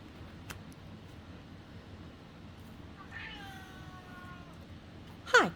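A house cat lets out a single drawn-out meow with a falling, wavering pitch partway through, moderately close over a steady hiss of background noise, followed by a short sharp rustle.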